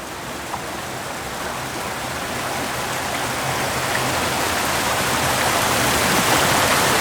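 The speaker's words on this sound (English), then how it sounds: "Pouring out, not just from the gate, but underneath." Water leaks heavily from a damaged lock gate on the Shropshire Union Canal, pouring out beneath it in a loud, steady rush that swells slightly over its length, heard alone without talk.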